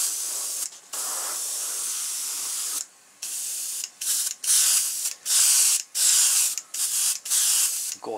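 Aerosol sparkle paint sprayed in a light coat onto a walleye fish mount, a series of loud hissing bursts, first long and steady, then shorter, separated by brief silences.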